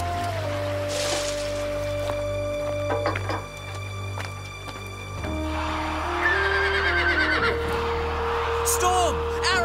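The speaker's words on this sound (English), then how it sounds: "That's my horse!" A cartoon horse neighs and whinnies amid an animated scene with music and sound effects, voices talking around it.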